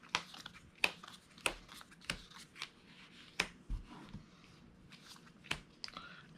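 Monster cards from a tabletop card game being shuffled by hand, a run of crisp riffling bursts and soft card slaps in an uneven rhythm, close and fairly quiet with no voices.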